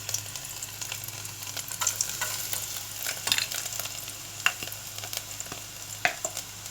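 Two chopped garlic cloves hit hot oil in a pan while cooking aloo ki katli, giving a steady crackling sizzle with occasional sharper pops and spatters, close and with no voices.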